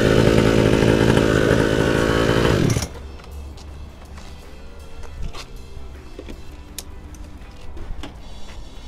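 A Maugli E4 49cc petrol children's quad bike engine buzzes loud and close for nearly three seconds, then cuts off, leaving only faint ticking and handling noises.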